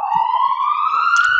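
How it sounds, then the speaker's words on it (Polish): A loud, close ambulance siren wails in a steady rising tone, passing by outside and heard alone with no talking over it. "Zatrzymuję się na sekundkę, bo słyszę karetkę."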